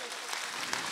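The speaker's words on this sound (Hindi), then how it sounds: "और जोर से तालियां।" A church congregation claps loudly and continuously during a prayer service, with a dense wash of many hands and a voice faintly present under it.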